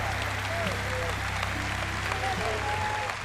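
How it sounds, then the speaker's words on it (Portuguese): A church congregation claps for the Lord during a worship service, a steady blended patter of hands with a low hum underneath and faint voices and whoops rising over it. "Agora dê ao Senhor uma salva de palmas."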